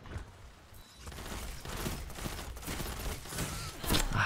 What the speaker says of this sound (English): Ah, I'm getting shot in the back.